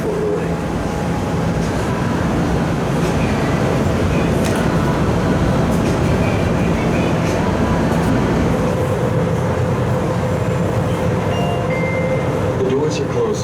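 Las Vegas Monorail train running, a steady loud rumble and rolling hum from inside the car with faint rattles throughout.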